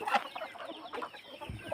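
Hens cluck softly in a short burst on a provincial farm, a few close, uneven clucks and chirps with a louder low cluck near the end.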